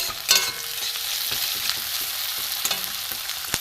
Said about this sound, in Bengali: এখানে অল্প করে রসুন দিয়ে দেবো, রসুনটা এর সাথে ভাজা হোক।